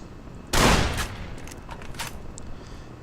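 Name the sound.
caravan shotgun firing, video game Fallout New Vegas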